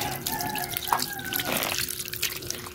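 Tap water runs and drips into a kitchen sink while prawns are washed, a soft continuous trickle with small splashes and clinks, close but quiet.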